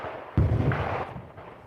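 A heavy boom of gunfire near the front line lands with a sudden thud, then rumbles and decays over about a second, with fainter distant reports following in an open outdoor setting.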